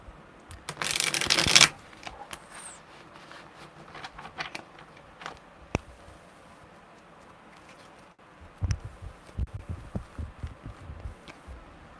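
A deck of tarot cards is shuffled up close in two quick riffling bursts, one near the start and another later, with quiet handling sounds between.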